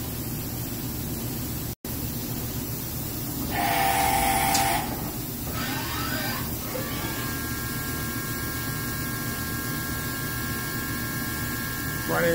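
A new 2015 Hyundai Wia F400 CNC vertical machining center runs a program, its spindle near 2200 RPM, giving a steady mechanical hum with brief bursts of whirring and shifting tones.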